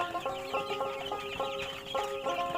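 Tiger-breed chickens on a farm clucking in a steady, busy chorus of short repeated calls, fairly close, with no voices.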